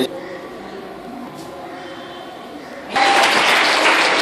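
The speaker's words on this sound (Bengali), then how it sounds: "একটা করতালি দিয়ে আমরা প্রেরণা জানাই" Audience at a Natun Dhara Bangladesh political gathering breaking into loud applause after a stretch of quieter room noise, the clapping dense and sustained to the end.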